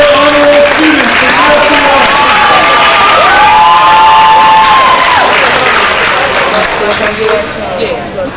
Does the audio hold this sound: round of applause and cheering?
yes